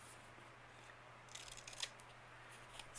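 Scissors trim a small paper craft tag, giving a few faint, close snips over a quiet background hum.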